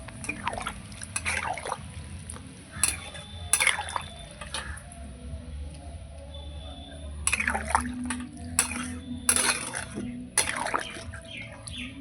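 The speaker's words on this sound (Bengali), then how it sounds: "এবার জল দিয়ে দেব" Water is poured and trickles into a pan of sautéed soybean and potato curry, with intermittent splashing bursts and softer dribbles over a low kitchen rumble. The sound is close and moderately quiet, and no one speaks.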